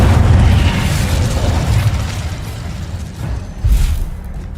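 A fire spell cast in the Hogwarts Legacy video game, heard as a loud, sustained fiery boom with rumbling low bursts that fade, then a second sharper burst near the end; no voices.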